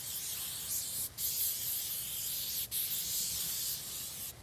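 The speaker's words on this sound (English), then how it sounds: "Get some cooking spray, regular cooking spray." Regular cooking spray hisses steadily from an aerosol can onto a cast iron skillet being restored, a close, continuous spray broken by two brief pauses.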